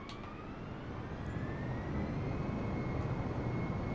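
An Airbus A320 jet in Microsoft Flight Simulator takes off. A steady broadband engine roar swells slightly, with a faint rising whine running through it.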